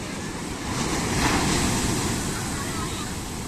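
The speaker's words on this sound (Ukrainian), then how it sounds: "Дивіться, яка хвиля велика." Large ocean waves break and surge along the shore at Puerto de Santiago on Tenerife during an evening walk. A loud, steady roar of surf fills the whole stretch, with wind buffeting the microphone throughout.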